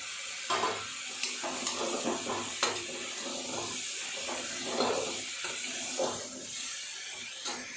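Chopped onions fry in a pan for a healthy chicken stew, giving a soft, steady sizzle with occasional clinks and stirring scrapes, fairly quiet and close, with no talking.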